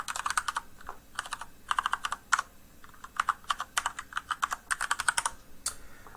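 Username and password being typed on a computer keyboard: quick bursts of close, crisp key clicks in short runs separated by brief pauses, with no talking.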